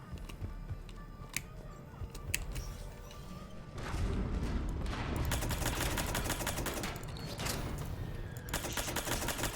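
Pistol fire in Mass Effect 3 Legendary Edition during the Citadel siege crackles as dense, rapid shots and impacts, thickening into a sustained loud barrage after the first few seconds.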